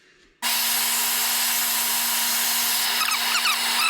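Drill press on auto boring into a wood workpiece for a pantry cabinet build: a sudden motor start, then a loud, steady hum and cutting noise with some scraping toward the end, no talking.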